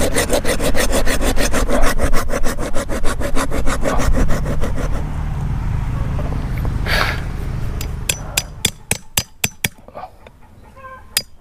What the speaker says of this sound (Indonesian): saya awali pakai gergaji dulu